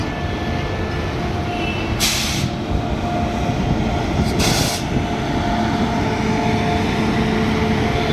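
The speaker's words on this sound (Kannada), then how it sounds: "ನೋಡಿ ಇನ್ನೊಂದು ಟ್ರೈನ್ ಹೊರಡ್ತು." An Indian Railways train pulling out of a busy station in Karnataka, a steady loud rumble of rolling coaches with brief bright hiss bursts over it, heard from the platform.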